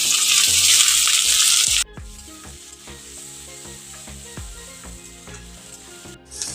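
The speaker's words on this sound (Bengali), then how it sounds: "তেল গরম হয়ে গেছে প্রথমে দিয়ে দিলাম আমি রসুন থেতো করে তারপর দিয়ে দিলাম আমি পেঁয়াজ কুচি" Crushed garlic and chopped onion hit hot oil in a pan for a dried-fish chutney, a loud bright hiss that drops abruptly to a quieter crackle with stirring clinks, then rises again briefly at the end.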